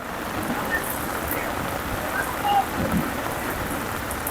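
Heavy rain pours down steadily through a storm with strong wind and lightning at a riverside landing, a dense, constant hiss of drops on surfaces filling the scene with no clear voices.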